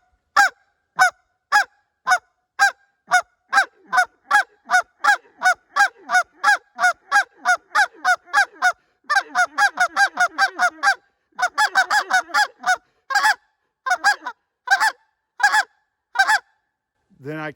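Canada goose clucks blown on a short reed goose call, a steady run of about twenty-five crisp honking notes at first, then tighter bursts of faster double clucks toward the end, close and loud with no talking.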